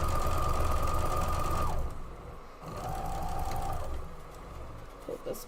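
Sewing machine stitching quilt block pieces, a steady fast whir that stops and restarts in short runs, quiet and close, with a few faint clicks near the end.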